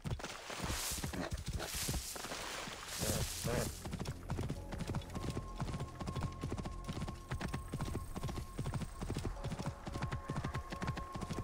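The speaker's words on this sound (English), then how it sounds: "Yeah, the horse riding movement really feels fluid." Horse hooves clip-clopping at a steady trot in Assassin's Creed Origins, a rapid, even rhythm of close, crisp hoofbeats running throughout, with a whinny near the start and a faint game hum behind.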